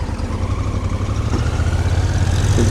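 An old 1950s–1960s car engine idles steadily at close range, a low, even rumble with a regular pulse that continues alone throughout.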